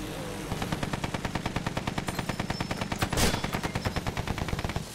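Rapid machine gun fire in Battlefield 1, a long steady burst of evenly spaced sharp shots with one louder blast near the end, moderately loud with no talk over it.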